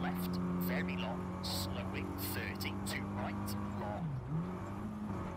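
A rally car in the EA Sports WRC video game drives and corners, its engine droning steadily and dipping in pitch as it brakes into a turn, with someone talking over it.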